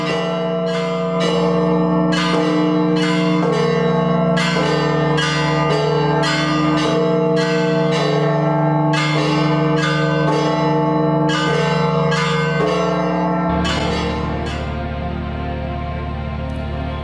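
Church bells peal together in the Holy Land, a large bell struck alongside eighteen bells rung by ropes, producing loud, dense, rhythmic clanging that continues steadily before one deep bell resonates at the end.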